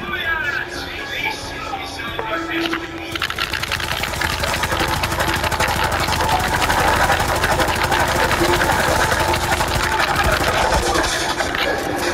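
A light machine gun fires in Far Cry 6 during the Jose Castillo boss fight, starting a few seconds in and then rattling continuously in a fast, even stream of shots that stays loud to the end.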